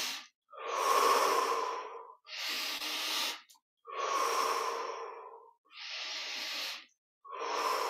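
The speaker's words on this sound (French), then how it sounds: "on prend directement 15 grandes respirations. Inspire par le nez, expire par la bouche" Five slow, deep breaths at close range, each a long airy draw through the nose followed by a breathy exhale through the mouth, separated by short silences in a steady rhythm with no talking.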